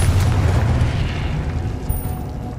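A Confringo blasting spell in Hogwarts Legacy erupts as a loud, deep booming explosion with a heavy low rumble that slowly fades into a lingering hiss.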